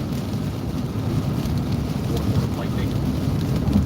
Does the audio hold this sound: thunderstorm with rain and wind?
yes